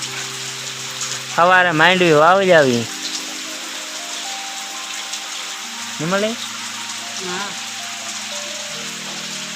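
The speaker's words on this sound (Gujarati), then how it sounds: "1 કલાકથી ચાલુ છે એટલો વરસાદ." Steady rain pours down without pause over farmland on a sowing day, a dense continuous hiss with a breath of wind, while someone talks over it in short bursts.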